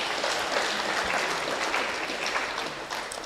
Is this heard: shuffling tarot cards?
no